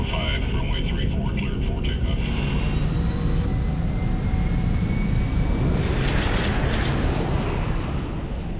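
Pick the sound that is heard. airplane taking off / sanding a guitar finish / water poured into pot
airplane taking off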